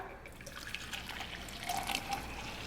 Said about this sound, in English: So I'm just going to pour into my Ninja.